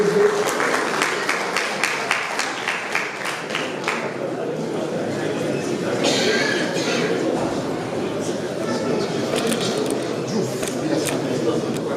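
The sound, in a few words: audience applause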